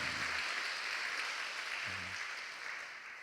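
Applause from a congregation at a Baptist pastors' and spouses' conference, given for the staff, a faint, steady wash of clapping heard from a distance that fades slightly toward the end.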